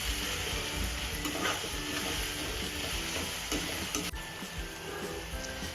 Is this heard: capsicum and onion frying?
yes